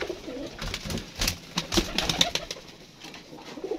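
Pigeons coo nearby in soft repeated throaty calls, with a few faint flutters and rustles mixed in.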